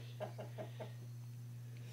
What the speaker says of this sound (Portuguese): Tem três galinhas aí, mas nenhum tá botando, ó.